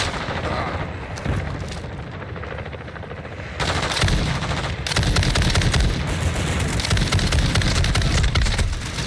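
Dense automatic gunfire in Call of Duty, continuous loud bursts with booming explosions mixed in, sustained across the whole stretch with no talking.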